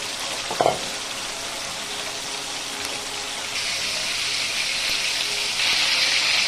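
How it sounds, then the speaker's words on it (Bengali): Marinated chicken frying in hot oil gives a steady sizzle with a brief splashy burst near the start, then the frying grows louder and denser as it goes on. "এখন আমি মুরগিটাকে ভেজে নিব"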